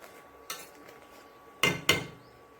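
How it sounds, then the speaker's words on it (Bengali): Metal utensil scraping and clanking against a frying pan as fish pieces are turned, two sharp close knocks after a softer one, over a quiet kitchen background. "এটা মাছটা একটু নাড়াচাড়া দিয়ে দেই।"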